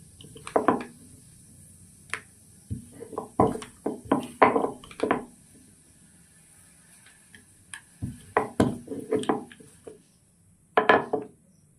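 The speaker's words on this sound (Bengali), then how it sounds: "তো এবার আমি লুচি বেলবো আর ভাজবো" Luchi dough rolled out with a wooden rolling pin on a board: bursts of rhythmic clacking and knocking strokes separated by quiet pauses, close and fairly loud.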